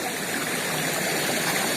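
Wai Campang river stream rushing continuously near a waterfall, a steady broadband wash of flowing water with gurgling texture, moderately loud and close, with no voices.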